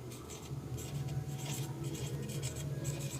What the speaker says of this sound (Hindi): तो हम लोग लिखेंगे